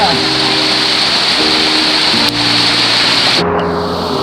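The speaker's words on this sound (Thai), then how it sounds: "โอ้อาจจะไม่มีรูปเจ๋งๆให้ดูนะเพราะฝนมันตกเนาะ" Steady dense hiss of rain falling near a waterfall in Phu Toei National Park, loud and continuous with a voice talking over it.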